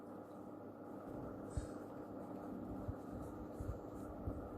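A pen or pencil writing numbers on paper, making faint scratchy strokes with a few light taps against a steady low room hum, with no talking.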